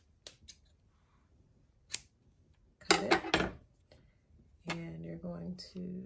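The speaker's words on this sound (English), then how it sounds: "And you're going to take your scissors." Scissors snip with a few brief crisp cuts, then a denser run of quick snips, while making a baseball cap with attached hair; a speaking voice comes and goes between the cuts.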